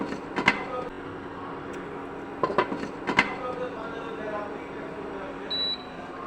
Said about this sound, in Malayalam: ഇനി നമുക്ക് ഇതൊരു അടപ്പ് വെച്ച് അടച്ച് വേവിച്ചെടുക്കാം.